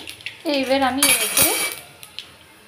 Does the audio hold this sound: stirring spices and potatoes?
yes